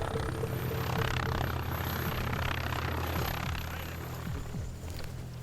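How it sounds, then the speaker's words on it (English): Rescue helicopters at a roadside crash scene where a biker was hurt, a loud, steady rotor and engine drone close by, with a faint rhythmic chop pulsing through it. "The other choppers arrived first."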